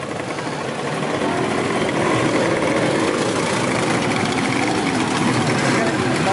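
A Suzuki Katana motorcycle idles steadily nearby at a bike meet, a constant engine drone under a busy outdoor wash of background noise.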